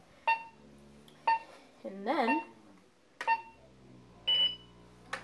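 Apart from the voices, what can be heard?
laser tag gun beeping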